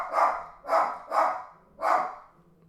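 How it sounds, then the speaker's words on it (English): A dog barks four times in quick succession, loud and close, with short gaps between the sharp barks and no voices over them. "Why is he barking? Shut up!"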